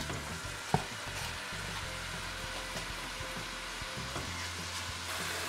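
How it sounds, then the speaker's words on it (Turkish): Meat fries in lightly heated oil for a bean stew, a steady loud sizzle that runs throughout with one sharp clack early on and faint stirring beneath. "Şimdi yağım hafif kızdı. Hemen içerisine etimi aktarıyorum."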